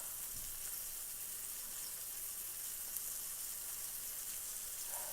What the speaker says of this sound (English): Donna, I'm cooking fried chicken.